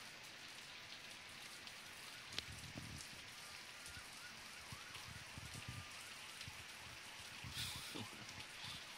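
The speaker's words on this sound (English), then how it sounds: "That's called rain. It's when water falls from the sky." Rain falling outside a window, a steady soft patter and hiss heard from indoors, with a few sharper drips and a faint distant siren, fairly quiet and continuous.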